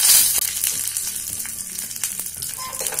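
Mustard seeds sizzle in a teaspoon of hot ghee for a tempering, a steady crackling hiss dotted with tiny sharp pops and spits throughout, close and fairly loud, with no voices.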